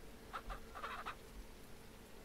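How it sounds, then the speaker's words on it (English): Several short, faint clucks from chickens in a coop in the Ranch Simulator video game, clustered in the first second over quiet background. "I don't want any of these chickens to get out"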